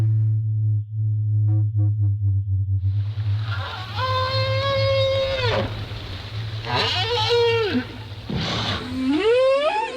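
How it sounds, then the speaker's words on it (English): Whales call underwater: a low steady drone and faint pulsed tones give way to several loud, drawn-out rising and falling moans with rich harmonics, three distinct calls, no talking. "the whales were speaking amongst themselves, as were most of the creatures of the sea"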